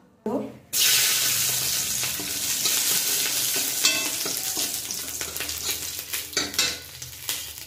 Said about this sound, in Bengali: এখন পেঁয়াজকালিগুলো ভাজবো।